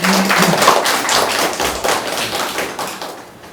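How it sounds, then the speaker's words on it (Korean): Audience applause at a women and family policy forum in Jeju fills the hall, a dense, loud burst of clapping that gradually fades over a few seconds. "박수 부탁드립니다."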